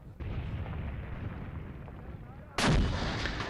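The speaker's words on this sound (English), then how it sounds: "it's all long range, it's machine guns and mortars." Distant machine gun and mortar fire in the war game Graviteam Tactics: a continuous rumbling barrage, then a sudden louder boom that rolls on and decays.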